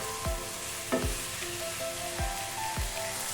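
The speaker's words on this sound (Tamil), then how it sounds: "தக்காளி நல்லா வதங்கட்டும்." Tomatoes sauté in a pan for a fish gravy, a dense continuous hiss of frying with a soft low thud roughly every half second to second as they are stirred.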